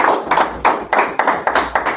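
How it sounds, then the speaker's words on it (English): A church congregation at a Sabbath service clapping for a speaker, with quick, regular claps that ring out closely and loudly, roughly four per second. "Clap it up for him."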